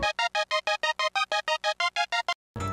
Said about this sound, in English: Layer in some super saws.